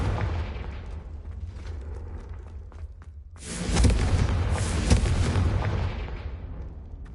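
A Confringo spell explosion in Hogwarts Legacy bursts out midway as a loud booming blast with crackling debris, fading gradually over a rumbling background.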